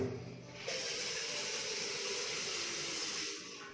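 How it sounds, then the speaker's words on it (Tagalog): Water for pancit canton pouring or hissing toward a boil in a pot on a butane stove, a steady broadband rush that swells after a brief quieter start and holds evenly before easing at the end. "Una, magpakulo tayo ng tubig."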